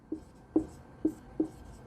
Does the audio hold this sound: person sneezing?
no